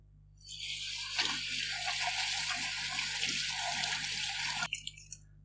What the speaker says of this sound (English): so once you've deveined these, you just need to wash them out